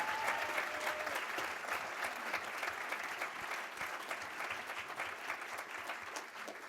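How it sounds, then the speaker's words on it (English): Audience at a school board meeting gives a sustained round of applause for VIPs, dense even clapping throughout at moderate distance. "Let's give our VIPs one more big round of applause."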